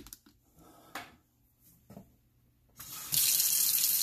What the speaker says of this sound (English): So I got the water on